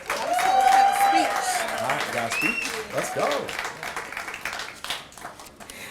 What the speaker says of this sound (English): another round of applause for Dominique Hickman